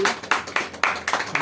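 Audience applause for a guest speaker at an event, a burst of clapping with sharp repeated onsets rising and falling across the moment, fairly close and loud.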